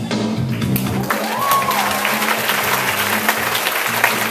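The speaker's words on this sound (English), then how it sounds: "receive your well-deserved applause" Applause from an audience follows a vanishing bandana magic trick, a moderate burst of clapping over a low steady hum, with a brief whistle-like sweep near the start.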